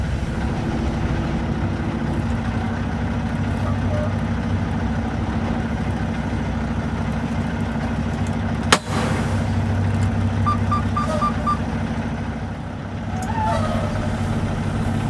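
A big rig truck pulls forward with a steady, loud diesel drone. A single sharp clack comes midway, followed by a few faint beeps, and the engine note dips briefly near the end.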